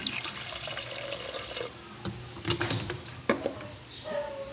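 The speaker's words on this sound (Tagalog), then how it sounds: "Lalagyan ko pa nga pala siya ng tubig." Tap water pours and splashes into a cooking pot at home, a steady running stream with a few louder gurgling bursts, close and alone without talk.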